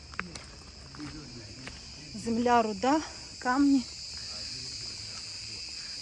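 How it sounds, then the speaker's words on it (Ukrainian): Cicadas along a canyon path keep up a continuous high, buzzing drone throughout, steady and fairly loud in open air, while someone talks briefly over it. "цикади співають. Приємно йти. Ох, як гарно співають."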